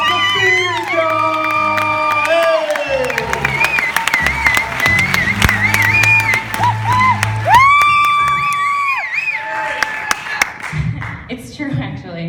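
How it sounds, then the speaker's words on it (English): Audience at a stand-up comedy show breaks into loud clapping, cheering and whoops, sustained throughout with shouting voices layered over the applause. "Start clapping right now for Michaela Lucia!"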